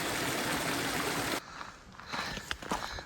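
Water rushes and trickles along a Sierra hiking trail after heavy afternoon rain, a steady broadband flow for over a second that then cuts to quieter gurgling with a few faint knocks and steps.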